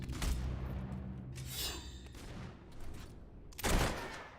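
Gunfire in the video game Fable 3: a burst of rapid shots at the start, a second volley mid-way and a loud blast near the end, all loud and close with no talking.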